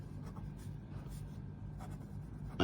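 A pen scratches across paper while place names are jotted down as revision notes, soft continuous writing strokes close by with a faint low hum underneath.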